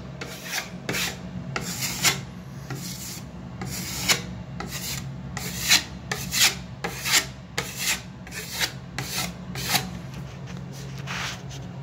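Repeated rough scraping strokes of sanding drywall, a steady rasping rhythm of about a dozen passes over a low constant hum, fairly close.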